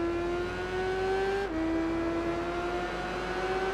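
A BMW K1200R motorcycle engine held in second gear in the racing game Tourist Trophy, a loud, steady, rising whine with one brief dip partway through before climbing again, no talk.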